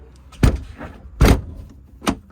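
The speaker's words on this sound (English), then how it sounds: "To lock your habitation door, you just lift the handle up and that's the door locked." Hobby T-550FS caravan habitation door handle being lifted to lock the door: three separate sharp, close clunks spaced roughly a second apart, with no voices.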